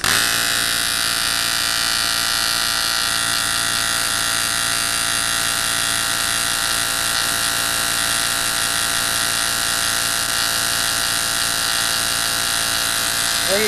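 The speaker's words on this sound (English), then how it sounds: "There's all your four spark plugs firing." Harley-Davidson ignition coils fire four spark plugs on a test rig, making a continuous, steady high-pitched electrical buzz that holds evenly and close throughout.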